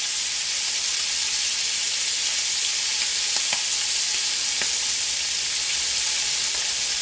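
Butter sizzles in a pan with a dense, even hiss that holds steady throughout, broken by a few faint pops and ticks, close and alone without any talking.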